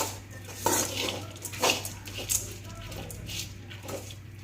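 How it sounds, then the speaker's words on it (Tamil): A metal spoon scrapes and clinks against a pan while stirring a fried pirandai (adamant creeper) chutney mixture, a few distinct knocks close by over a faint low hum. "நல்லா கிளறி விட்டுக்கலாம்."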